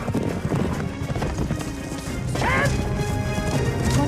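A horse gallops in a Game of Thrones scene, rapid thudding hoofbeats close and loud, with a horse's whinny and crashing impacts mixed in.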